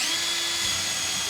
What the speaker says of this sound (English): I'm just gonna pre-drill. That way I don't end up splitting the board.